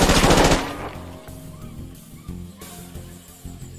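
A loud, rapid burst of gunfire rattles out at the start, then fades into scattered, quieter shots and echoes over a background of music.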